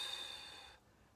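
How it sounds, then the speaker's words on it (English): A single soft breath exhaled during a slow Pilates hip-roll exercise, a brief airy hiss that fades out partway through, quiet and close. "Breathing out"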